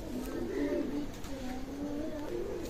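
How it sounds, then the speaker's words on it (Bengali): Pakistani Teddy pigeons at a pigeon loft coo in low, rolling repeated phrases, close and clear over a soft steady background hiss. "চমৎকার ব্লাড লাইনের কবুতর মাশাআল্লাহ"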